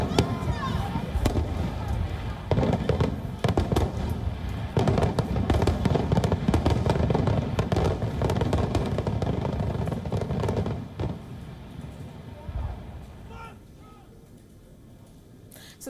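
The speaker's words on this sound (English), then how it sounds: "their voice got lost in the sound of fireworks" Continuous booming and crackling of fireworks over the Republican National Convention finale, dense overlapping bangs for several seconds, then thinning out and fading near the end.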